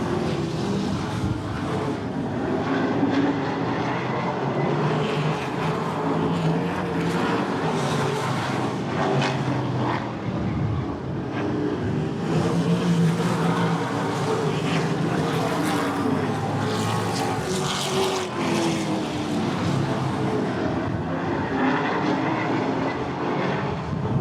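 Race cars, including one running a crate motor, roar continuously around an oval raceway during a feature race, with engine drone rising and falling steadily as the pack circles, loud and sustained throughout.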